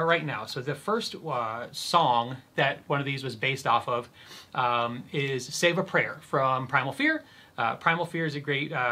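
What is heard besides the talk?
No distinct noise like a dog, phone or traffic.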